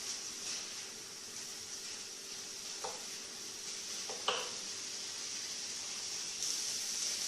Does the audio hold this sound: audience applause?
no